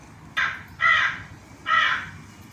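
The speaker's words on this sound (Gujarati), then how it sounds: "તો કાગડાનો અવાજ સાંભળીશું." A crow calls three times, harsh cawing bursts in an uneven rhythm, clear and fairly close against a quiet background.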